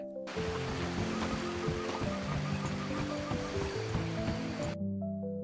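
Water flows under a steel bridge in Red Dead Redemption 2, a steady rushing stream that holds at an even level, then cuts off abruptly, leaving only a low hum.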